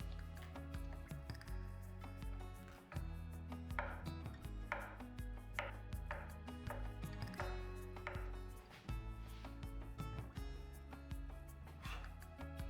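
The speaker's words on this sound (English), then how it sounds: "Then avocado diced into small cubes." An avocado being diced into small cubes on a board, a quiet series of soft, rapid knife taps and thuds in uneven bursts over a faint background music bed.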